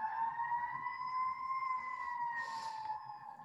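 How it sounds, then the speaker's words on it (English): Fire engine sirens near a firehouse hold a steady, sustained wail at a distance, fairly faint but continuous throughout, with a short burst of hiss partway through and no talking. "please excuse the sirens"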